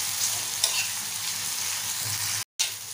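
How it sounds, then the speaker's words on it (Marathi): Tomatoes fry in oil in a pan for prawn masala, giving a loud, continuous close-up sizzle with light stirring. The sound cuts out briefly near the end. "टोमॅटो आपल्याला छान नरम करून घ्यायचं आहे तेल सुटेपर्यंत।"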